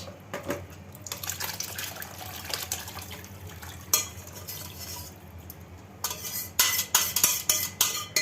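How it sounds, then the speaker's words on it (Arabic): Whey draining from fresh homemade cheese in a metal strainer splashes into a pot, with wet trickling and clinking of utensils, rising into louder bursts of splashing near the end. "بصوا الشرش بقى اللي هينزل منها وعمال يطرطش"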